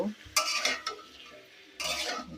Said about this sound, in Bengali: ফুলকপি আর সিম দিয়ে দিয়ে সবগুলা দিয়ে এখন আমি এগুলো কষিয়ে নেব